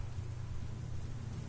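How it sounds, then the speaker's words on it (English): Thunder and rain in the game Furi, a low rumbling roll under a steady wash of rainfall, quiet and continuous, with no voices. "I hear thunder, pitter patter."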